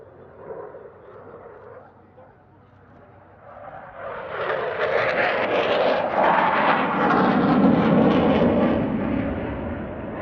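A Sukhoi Su-27 fighter jet in a solo display at a Russian Air Force anniversary airshow roars in from a distance and swells into a loud, sustained jet rumble.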